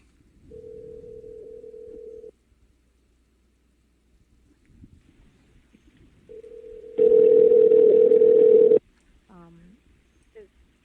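A telephone line carries a steady tone, heard once for a couple of seconds and again later, louder and overlaid with dialing and line noise, with brief quiet gaps between.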